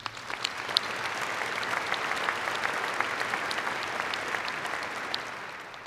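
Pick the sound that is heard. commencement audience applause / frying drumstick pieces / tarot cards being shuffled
commencement audience applause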